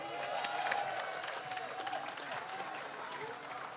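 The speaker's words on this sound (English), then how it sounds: "Give me a huge round of applause for Bill Howard." A large crowd applauds steadily at a West Indian Day Carnival breakfast, dense and sustained clapping filling the room, with some cheering mixed in.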